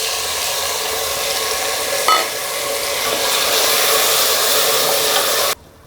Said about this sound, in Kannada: ಟೊಮೊಟೊನ ಚೆನ್ನಾಗಿ ಫ್ರೈ ಆಗಕ್ಕೆ ಬಿಡಬೇಕು ಆಯಿಲಲ್ಲೇ